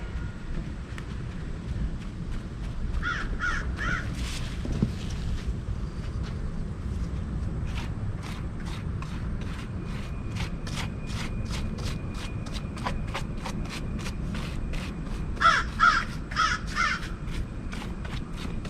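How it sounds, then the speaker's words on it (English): A crow caws in repeated harsh calls, one group early and another near the end, and a faster run of clicking taps sounds in between against a steady low background hum. "A crow. Good sound effects for our video."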